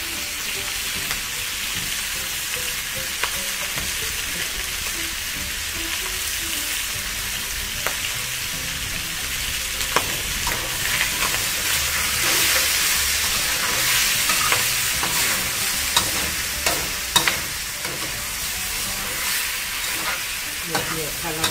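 Shark fish stir-fried in a wok for a Thai pad cha dish, with a steady loud sizzle and repeated scraping, clinking strokes of the spatula running throughout, no talking.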